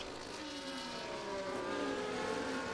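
F1 race car engine from F1 24 at the British Grand Prix, running in the slipstream with DRS open: a steady high-pitched engine whine with rising harmonic tones, heard faintly at a distance under a broad noisy wash.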